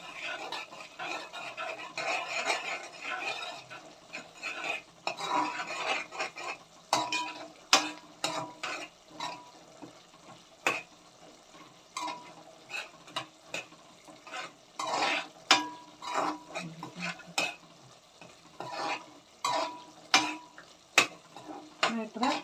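A spoon scrapes and stirs puliyogare gojju in a pan, with soft sizzling and irregular clinks of metal against the pan that come in uneven bursts and stay close and fairly quiet.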